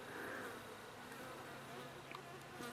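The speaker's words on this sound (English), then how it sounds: "all these flies buzzing around me" Flies buzz persistently around a person outdoors in hot weather on a wildlife walk, a faint, steady droning hum close by with small fluctuations, no talking.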